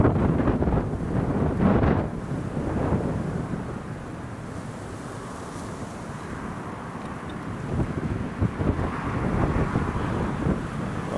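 Strong gusting wind buffets the microphone at an airport during a storm, a loud rumbling roar that swells and eases over several seconds with no voices.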